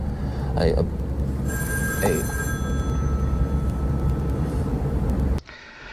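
A telephone bell rings steadily in a horror game stream, sounding loud and continuous for about five seconds over a constant low rumble before cutting off abruptly; brief vocal sounds occur early on.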